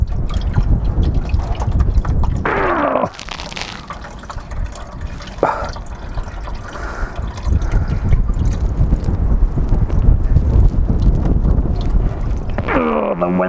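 Leaking coolant spraying and splattering around a car engine bay as wind blows it, a steady loud wash of windy rushing noise with a few brief liquid spurts, no talk.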